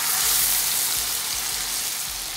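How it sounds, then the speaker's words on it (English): Soya chaap pieces sauté in hot oil with yogurt, giving a steady, dense hiss of sizzling from start to finish, close and fairly loud, with faint low thumps beneath and no voices. "I'm just going to saute it till it becomes dry"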